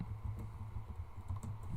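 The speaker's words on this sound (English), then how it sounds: "My main laptop keyboard is a bit busted" Typing on a somewhat busted laptop keyboard, a quiet run of soft, rapid key clicks in an irregular rhythm, faint and close, with no talking.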